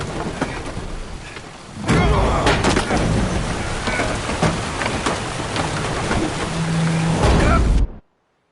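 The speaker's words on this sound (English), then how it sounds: "Didn't bargain for no storm." Heavy rain and rolling thunder batter a ship at sea during a storm in The Witcher 3, a loud continuous roar with sharp cracks and booms that cuts off abruptly at the end.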